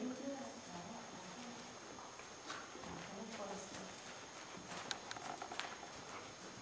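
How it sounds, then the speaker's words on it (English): Hooves of an athletic Morgan mare clip-clop at a walk, a soft, uneven series of hoof strikes heard faintly beneath a voice talking. "And then Semi is an athletic, personable Morgan horse, Morgan mare"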